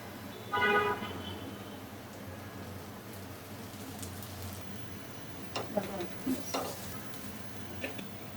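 Lentil fritters (bora) frying until crisp in oil, a soft continuous sizzle under faint background noise, with a few sharp clinks and scrapes of a utensil near the end and brief tonal sounds early on.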